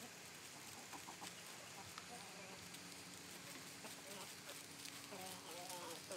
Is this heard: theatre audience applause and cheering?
no